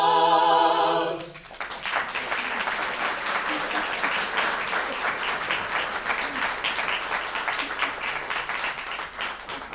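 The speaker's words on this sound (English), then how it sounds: "I am so thankful you clapped, because that would have been really awkward." An audience claps at a Purple Heart ceremony at Mount Vernon: a sung or toned passage cuts off and broad, sustained applause rises and continues evenly to the end.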